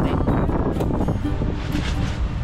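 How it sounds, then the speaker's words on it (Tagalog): Strong typhoon wind buffets a moto campsite in a storm, a loud, gusty rush with rumbling surges close to the microphone. "Hindi pa tumitigil itong hangin."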